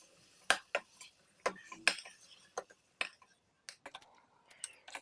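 A utensil stirs carrot halwa with ghee in a pan, making sharp, irregular scrapes and clinks against the metal with quiet gaps between strokes. The sounds are fairly close and the kitchen is otherwise quiet.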